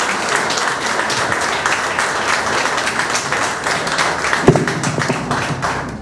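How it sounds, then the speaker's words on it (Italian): A crowd applauds at the inauguration of a politician's campaign committee in Mazara del Vallo, Sicily, with dense, steady clapping sustained throughout and a single duller thump near the end. "un grande applauso."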